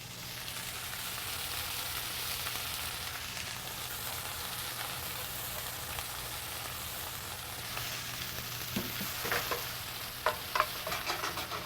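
A pan of food fries on high heat with a steady sizzle while being stirred, and a few louder scrapes and clinks come near the end.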